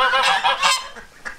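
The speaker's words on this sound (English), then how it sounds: "Just randomly found this pond and some geese." Several geese at a pond in Madeira honk in quick, overlapping calls nearby, loud and harsh, with no talking.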